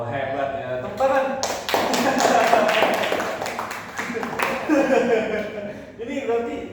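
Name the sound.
applause, people clapping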